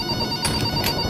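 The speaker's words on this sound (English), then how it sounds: "Somebody answer that phone." A telephone rings in a Pavlov VR shooter game, a loud, steady electronic trill with two brief pulses of brighter ringing, with no talking.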